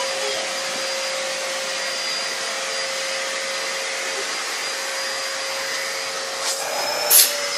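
A vacuum cleaner drones continuously with a steady high-pitched whine, and a brief rattle near the end as it picks something up.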